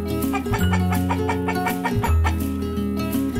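A toy chicken coop gives out electronic hen clucks, a run of bright, buzzy tones over a steady musical backing, loud and close throughout.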